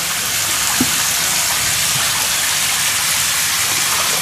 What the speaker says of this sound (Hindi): इंक्यूबेशन टंकी में डालते हैं जहाँ पर पानी घूमते रहता है